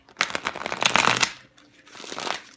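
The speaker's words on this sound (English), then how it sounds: "let me go ahead and shuffle and lay them out" A deck of tarot cards is shuffled up close: a dense, riffling flutter of card edges for about a second, then softer sliding and tapping as the cards settle.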